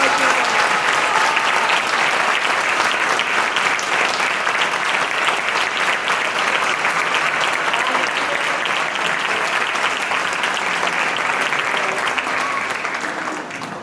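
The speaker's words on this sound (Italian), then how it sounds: "si merita un grandissimo applauso lui, signori Giovanni Marsala" A small theatre audience gives a long, loud, sustained round of applause for actor Giovanni Marsala at the end of a stage performance, dense continuous clapping that only eases slightly at the very end.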